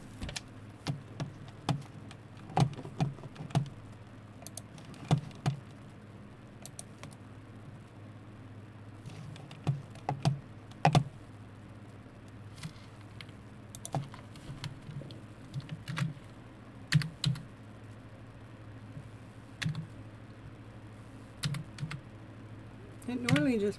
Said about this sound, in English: It normally just pops up the whole name when I start typing your name in